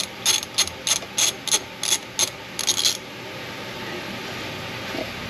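A ratchet backs a thread tap out of a bolt hole in a Ford FE cylinder head, giving several quick bursts of close, crisp clicking over about three seconds before falling quiet.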